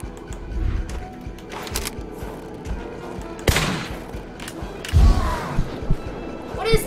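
Bursts of gunfire ring out in the video game Kona, several sharp shots and rapid volleys scattered over game sounds, while a person reacts aloud nearby.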